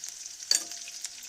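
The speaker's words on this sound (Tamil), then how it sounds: "வதக்குறோம்" Onion and curry leaves being stirred in a hot pan with salt and turmeric, a faint sizzle with one short scrape of a spoon midway.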